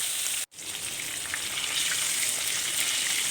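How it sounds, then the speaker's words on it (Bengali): Fish fries in hot cooking oil in a pan, a dense, even sizzling hiss close up that cuts out for an instant early on, then holds steady and grows slightly louder. "তেলটা গরম হয়ে আসলে মাছগুলো এক এক করে ছেড়ে দেব তেলের মধ্যে।"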